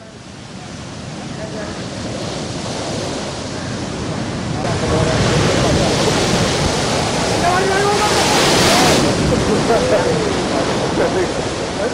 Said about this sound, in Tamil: ஒகி புயலால் கேரள மாநில கடலோர மாவட்டங்களில் கடல் அலைகள் சீற்றத்துடன் காணப்படுகின்றன